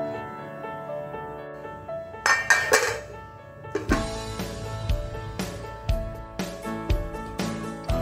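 A lid clatters onto a bowl of samosa dough with a few clinking metal knocks and thuds, close and fairly loud, in a home kitchen.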